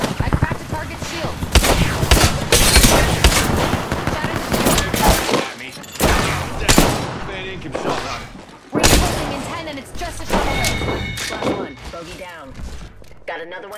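Apex Legends gunfire with a Thermite grenade, dense rapid automatic bursts and heavy thuds packed close together, with a game character voice calling out over the shooting.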